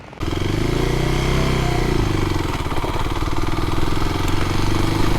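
A Kawasaki KLX 250 motorcycle engine fires up and settles into a loud, close, steady idle with a throbbing low rumble and light mechanical clatter.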